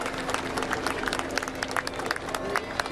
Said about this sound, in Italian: Parte l'applauso.